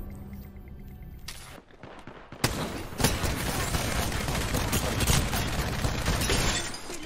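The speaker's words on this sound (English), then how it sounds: "Devotion go burr!" Devotion light machine gun firing in Apex Legends: a quieter stretch, then a sharp crack and a loud, sustained stream of rapid shots with shattering impacts, dense and close.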